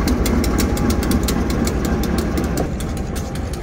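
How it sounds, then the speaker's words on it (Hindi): A diesel railway locomotive from a Chaman passenger train rumbles at close range as it moves toward the turntable, with a steady low engine throb and repeated sharp clanks over it. "ये चमन पैसेंजर का इंजन टर्नटेबल के लिए जा रहा है।"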